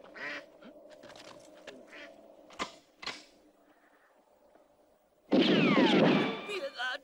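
A duck quacks in a Spanish-language western film: softer sounds and voices come first, then a loud, close burst of rapid quacking takes over near the end.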